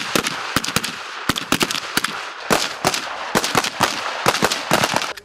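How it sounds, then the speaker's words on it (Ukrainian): Rapid rifle shots crack in irregular bursts, sharp and loud, some overlapping, with brief gaps between volleys and faint background noise, at a military shooting exercise with soldiers firing standing. "З позиції стоячи стріляє військовослужбовець Станіслав Кравець."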